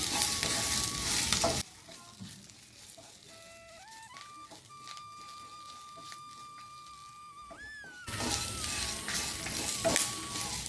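Ingredients for curry leaf kuzhambu being lightly roasted in a pan, a soft sizzle with stirring at the start and end, separated by a quieter stretch with faint tonal sounds.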